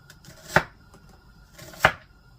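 A knife cuts through kielbasa on a cutting board, making half slices: two crisp, close chops spaced about a second apart over a quiet room.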